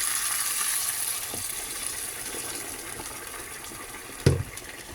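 Water poured into a pan for the broth of sautéed fish with ampalaya leaves, a steady close gush of liquid that tapers off, followed by a brief knock near the end.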